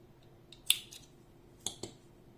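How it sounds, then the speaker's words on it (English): Scissors snipping through yarn while crocheting carrot appliqués, with a few quiet, sharp close-up snips spaced across about two seconds in an otherwise quiet room. "Cutting the yarn."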